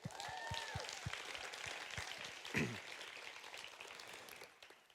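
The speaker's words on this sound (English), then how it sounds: "Round of applause for Shelly Callan." Audience applause at a camp welcome gathering, a fairly faint, sustained patter of clapping from a crowd, with a few louder distinct claps early on and a brief voice partway through.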